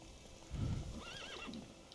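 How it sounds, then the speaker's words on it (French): A horse in a video game gives a loud whinny over a soft, steady clip-clop of hooves, a brief burst of sound among quieter background noise. "Le cheval va quand même à sa vitesse."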